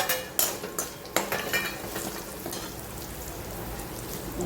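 Peanuts and roasted chana frying in oil over a low flame for poha chevdo, a continuous crackling sizzle with several sharp clinks of a spoon stirring against the pan early on.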